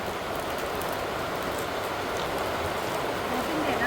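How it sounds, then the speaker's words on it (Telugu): Rain pours down as a loud, steady, close hiss that holds without pause throughout. "వర్షం పడుతుందండి"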